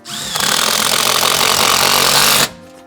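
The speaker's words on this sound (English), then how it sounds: "I'm gonna add another bolt here" A power tool drives a bolt into a garage door, a loud, steady whirring buzz that starts abruptly, runs for about two seconds and then cuts off.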